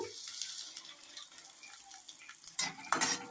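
Asafoetida sizzles quietly in hot oil with fried dried chilli and fennel as it is stirred, a soft steady frying hiss ending in a couple of louder scraping stirs.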